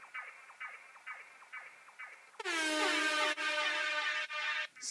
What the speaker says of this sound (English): Air horn is a little harsh.